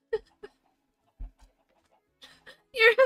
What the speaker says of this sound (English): Chickens are funny.